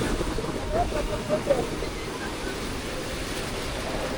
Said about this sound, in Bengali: ওই যে পানি অনেক ঢেউ ঢেউ আসতেছে